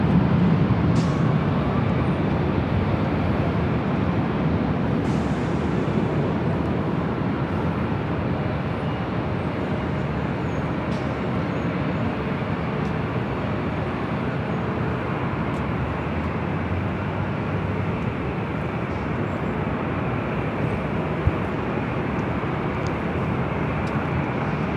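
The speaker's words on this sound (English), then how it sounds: "This is Southwest Airlines 5796 coming in from Las Vegas on a" Southwest Airlines Boeing 737-700 arriving at LAX from Las Vegas, a steady broadband jet roar that holds at an even level for the whole stretch, with no talk.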